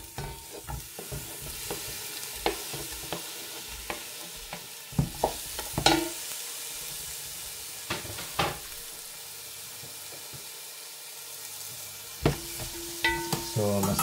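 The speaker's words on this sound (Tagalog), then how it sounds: "I-add ko naman yung aking fresh tomato." Fresh tomato hits a pan of sautéing garlic and onion, a soft continuous sizzle with intermittent scrapes and taps of a spoon stirring, no one speaking.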